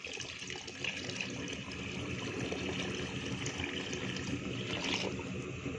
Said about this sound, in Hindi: पानी जी कम है तो पानी और शामिल करेंगे हम।